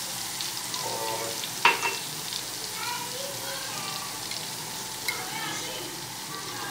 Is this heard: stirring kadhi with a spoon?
yes